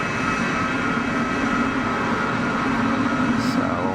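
An airliner arriving from Mallorca on very short final to runway 04 at Geneva Airport, its engine roar a steady loud rumble held throughout, close by and constant.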